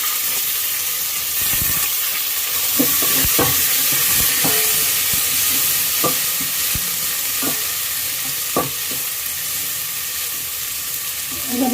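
Onions sauté in a pan for brinjal and ridge gourd sambar with curry leaves, a steady loud sizzle broken by sharp spatula taps and scrapes at irregular intervals.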